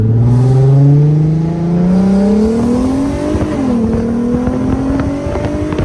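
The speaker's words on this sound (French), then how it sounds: "C'est 6 cylindres dans une Golf, c'est un truc de fou." A six-cylinder engine fitted in a Volkswagen Golf revs loud and close, its pitch climbing steadily for several seconds, dipping briefly, then rising again as the car accelerates.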